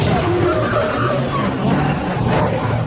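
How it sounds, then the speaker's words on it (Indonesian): In a film chase, a car's tire bursts and the car skids, a loud continuous screech of sliding rubber over a roaring engine, sustained throughout. "ban yang tadi Eunsi bidik akhirnya meledak hingga mobil tersebut tergelincir"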